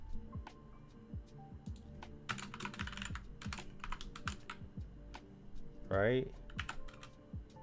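Computer keyboard clacking steadily as C# code is typed, a dense run of close key taps with a brief pause, while someone talks quietly over it.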